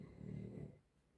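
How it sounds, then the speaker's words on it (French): A resting dog snores softly, one low, rough, drawn-out breath that fades into near silence, faint and close with no talk. "j'ai ma ronfleuse qui ronfle, qui commence à ronfler"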